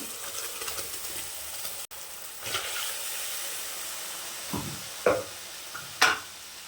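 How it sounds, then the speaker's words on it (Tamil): Ground masala frying in a pan for egg curry gives a soft continuous sizzle, broken by a few sharper stirring scrapes and spatters toward the end, quiet and close, with no talking. "மசாலாவை சேர்த்துக்கலாம் அரைச்சி வச்ச மசாலாவை"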